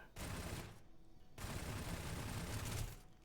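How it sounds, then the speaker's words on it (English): Shotgun blasts from a snubbie shotgun mod in the video game Starfield, two dense, roaring bursts of fire separated by a brief gap, loud and close with no talking. "Don't start walking in front of the shotgun. Let's test it."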